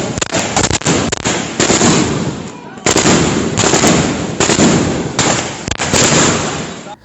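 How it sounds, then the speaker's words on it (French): Rapid bursts of live gunfire from UN soldiers forcing a passage during protests in Beni, sharp close cracks in irregular volleys over a constant loud crowd-and-street roar, with brief lulls between clusters of shots. "forcé le passage en tirant des balles réelles"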